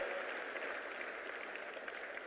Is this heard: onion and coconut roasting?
no